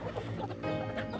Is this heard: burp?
no